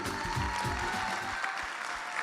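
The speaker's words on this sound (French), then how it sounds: "les applaudissements viennent les récompenser, s'il vous plaît" An audience applauds at an awards evening for local business trophies in Béarn, France, a steady wash of clapping in a large room that fades slightly toward the end, with no talk over it.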